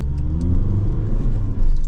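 A diesel manual car launches hard from about 2000 RPM with clutch and handbrake released, its engine rumbling loudly and steadily throughout, swelling again near the end, close and alone without talk.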